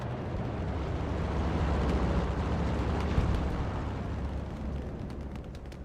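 Bomb blasts in the World War II shooter Hell Let Loose rumble as a long, heavy, sustained roar, with debris-like crackle and a sharper burst near the middle before fading slightly.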